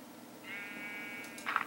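A sheep in Minecraft gives a single drawn-out, quivering bleat that is quiet and steady, followed by a brief brighter sound at the end, over faint background noise.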